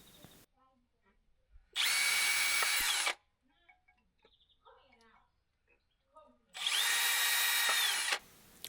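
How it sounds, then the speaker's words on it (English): A power drill with a 4mm bit whirs loudly drilling wall holes in two bursts of about a second and a half each, separated by quieter pauses with faint rustling and a voice. "I'm currently drilling the 4 holes ready to screw it to the wall using a 4mm drill bit."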